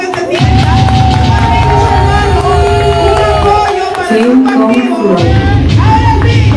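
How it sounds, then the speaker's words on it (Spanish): Lively crowd at a party in Brooklyn cheering and whooping with scattered clapping, loud and sustained, with background music and voices mixed in. "un aplauso que se sienta, un apoyo para el grupo activo."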